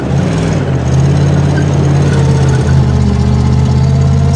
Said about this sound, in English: It's got a throaty exhaust